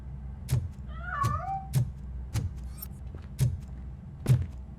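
A cat meows once with a drawn-out, wavering cry in the video game RoboCop: Rogue City, set against steady rhythmic thuds and a low ambient hum.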